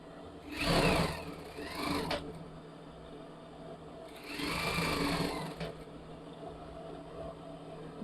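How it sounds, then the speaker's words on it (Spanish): A sewing machine stitches a tie collar onto a women's blouse at a one-centimetre seam allowance. It runs in two close whirring bursts of about two seconds each, separated by a brief pause and followed by quieter handling. "vamos a empezar a coser a 1 centímetro de costura o al ancho del pie"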